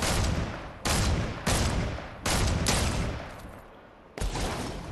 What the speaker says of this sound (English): Shoot some rocket launchers over there towards the blue mark.